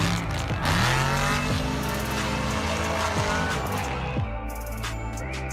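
A car driven hard in an extreme-driving exercise roars with rising and falling engine revs and repeated tire squeals and skids, loud and close throughout, with the engine easing off near the end.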